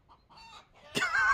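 Chickens clucking in a short series of soft calls, then a louder, harsher squawk near the end, close by with no voices.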